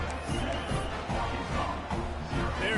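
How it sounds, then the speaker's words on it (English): A football stadium crowd at a Missouri vs Arkansas game cheers and roars before a kickoff, a broad, distant wash of sound with surges of yelling and no clear talking. "this crowd now ready to get behind them"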